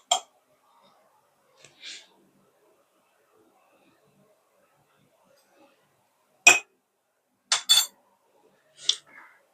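A spoon clinks against a bowl while eggs are mixed with salt for dim bhapa, a handful of sharp, isolated metallic taps separated by long quiet gaps.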